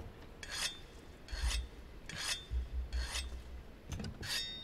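Whetstone sharpening a hammer weapon in the video game Monster Hunter World: five evenly spaced rasping scrapes, each a bright grinding stroke separated by short gaps, with no talking.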